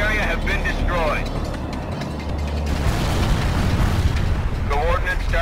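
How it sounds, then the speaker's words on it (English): Artillery strike explosions in the World in Conflict video game, a dense continuous rumble of booms and debris under radio-style voices talking over the barrage. "Coordinates received. Artillery firing."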